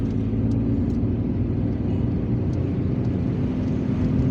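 A car drives along a street in Algiers, a steady loud rumble of engine and road noise from inside the vehicle with faint traffic sounds above it, no talk.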